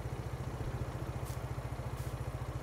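A tractor engine idles in Farming Simulator 22 with a steady, fast low-pitched chug and an even mechanical rhythm. It runs close and alone, with no talk over it.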